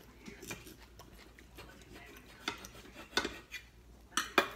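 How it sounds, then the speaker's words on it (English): Knife and fork cutting a piece of steak on a plate, quiet scrapes and scattered sharp clinks, with a few louder taps near the end. "Why don't you cut him off a piece of steak?"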